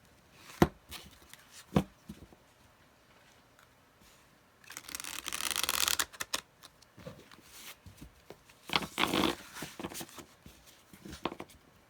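Marseille tarot deck (Pixie's Marseille Tarot, soft glossy card stock) being shuffled by hand: a few sharp isolated card taps, then two longer bursts of riffling and flicking, close and fairly quiet, with no talking.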